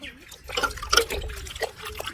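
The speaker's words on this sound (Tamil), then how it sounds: "இது என்ன பண்ணணும்னா தண்ணியில அலசணும்." A cloth rinsed by hand in water, with irregular splashes, drips and sloshing bursts, close by and moderately loud, with faint speech-like sounds mixed in.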